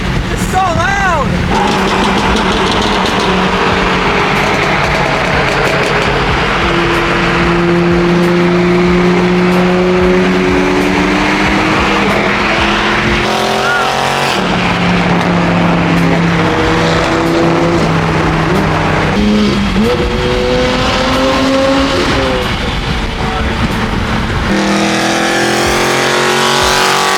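Cars rev their engines hard at a crowded car meet, loud rising and falling engine whines sweeping up and down in pitch one after another, with crowd noise and voices talking throughout.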